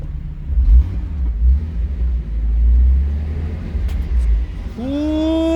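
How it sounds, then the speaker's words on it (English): A Toyota Supra rumbles close by with a loud, steady low engine drone that swells and dips as it drives, then ends in a rising tonal whine. No one speaks. "Ooh, I drove a Supra."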